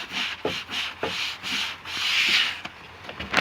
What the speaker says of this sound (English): We'll have to hand scrub all this.